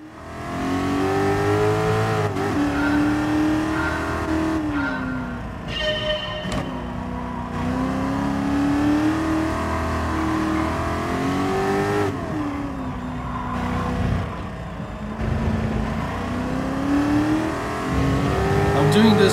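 Race car engines rev and roar in the Gran Turismo Sport video game, a continuous loud drone rising and falling through gear shifts with brief tire squeals, while someone talks over it.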